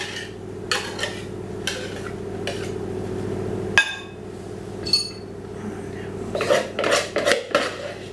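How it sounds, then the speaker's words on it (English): A hand whisk clinks and taps against a bowl while egg whites are added for a magic lemon custard cake, irregular metallic strikes over steady low background hum, with a busier burst of clattering near the end. "I've got a hand whisk here, so we'll add in the egg whites here"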